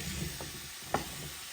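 Food frying steadily in a hot pan before shrimp are added for pepper shrimp and Hakka noodles, a continuous close sizzle with a brief stirring clatter.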